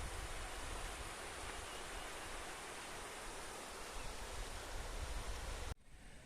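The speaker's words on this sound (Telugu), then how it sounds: "అద్భుతంగా ఉంది జలపాతం." Tadigada waterfall pours down into a stream in a forested area, a dense, steady roar of rushing water heard close and loud with no talk, cutting abruptly near the end.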